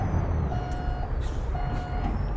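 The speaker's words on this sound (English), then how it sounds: "The backup alarm is actually quite annoying" A truck's reverse alarm in American Truck Simulator beeps twice in slow, even pulses over a low idling engine rumble.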